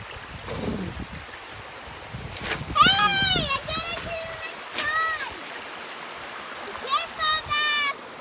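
Stream water flows at Seal Bay Nature Park in British Columbia, Canada, as a steady, soft broadband rush that runs under children's voices speaking and calling out.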